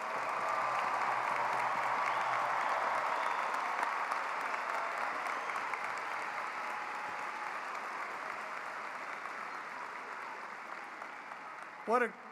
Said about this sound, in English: Let's give the class of 2022 a round of applause.